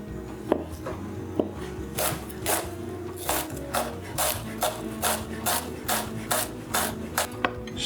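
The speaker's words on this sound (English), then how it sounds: "I'll cut it in half, and then I'll cut those halves in half, and then I'll chop." Knife chopping a quartered onion on a cutting board in a home kitchen, a steady run of about ten crisp, evenly spaced chops close up, after two sharper opening cuts, with no talking.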